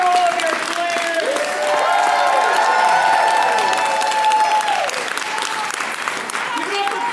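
Audience applause follows an improv comedy showcase, with steady dense clapping and cheering from a crowd throughout, loud and close, while a host speaks over it and a voice carries on across the noise.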